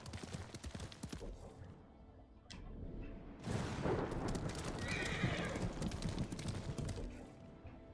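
A horse in the game Ghost of Tsushima gallops with rapid clip-clop hoofbeats, then lets out a loud whinny midway as the pounding hooves carry on. The game audio is moderately loud and no one speaks over it.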